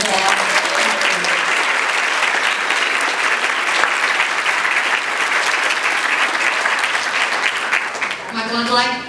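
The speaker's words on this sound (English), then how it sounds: "I'd like to give Michael another hand of applause." Audience applause after a talk, sustained and fairly loud clapping for about eight seconds before a speaker's voice returns at the end.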